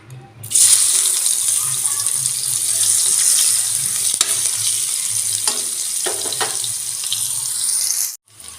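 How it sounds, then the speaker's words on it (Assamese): A loud, steady sizzle of onions hitting hot oil left over from frying fish, with a few stirring clinks, fading abruptly at the end. "মাছৰ তেলতে মই পিঁয়াজখিনি দি দিম।"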